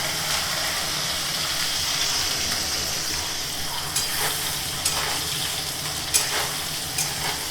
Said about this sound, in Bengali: অল্প নুন দিয়ে আলুটা ভেজে নেব